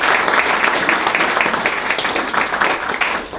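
Applause from an audience at a university president's introductory press conference, a steady wash of many hands clapping, fairly loud and close, filling the few seconds without speech.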